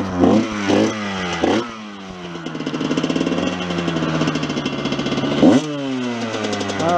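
A Kawasaki KX125 two-stroke dirt bike engine sputters to life, then runs and revs with a rising buzzing whine and steady idle, loud and close, punctuated by sharp throttle blips.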